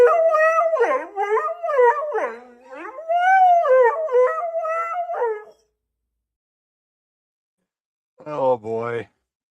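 A dog howls loudly and close by, a long wavering howl lasting several seconds with rising and falling pitch. After a silent pause comes one short final howl.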